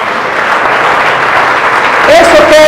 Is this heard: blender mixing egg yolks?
no